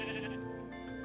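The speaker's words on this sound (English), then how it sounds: "Oh yeah, we have the new baby sheep." Baby sheep in Minecraft bleating, one wavering game-animal cry heard clearly against a steady background.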